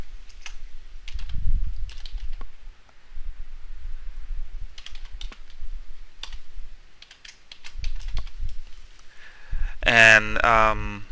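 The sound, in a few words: typing code on a computer keyboard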